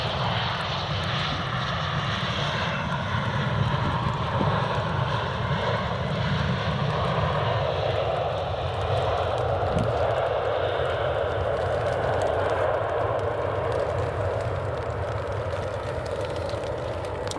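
A KLM airliner arrives at Edinburgh Airport, its jet engines giving a broad, steady roar that holds loud and continuous throughout, with no voices over it.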